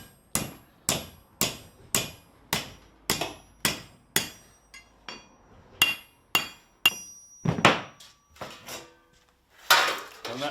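Hot metal for a fire tray handle is hammered over the end of an anvil: a dozen sharp, ringing blows in a steady rhythm, close and loud, with a few lighter clinks and scrapes near the end.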